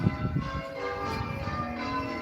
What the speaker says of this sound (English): my church is ringing the bells tonight. And it sounds rather magnificent when you get underneath the church.